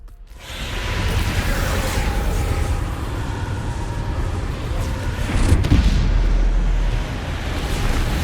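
A Bombarda spell explosion in Hogwarts Legacy, a deep rumbling blast that swells and rolls on with a heavier impact boom midway, loud and sustained.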